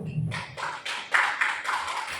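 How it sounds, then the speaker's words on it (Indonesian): Classroom applause for a student group, a short burst of several people clapping in uneven bursts, fairly close and loud. "tepuk tangan dulu untuk kelompok 1"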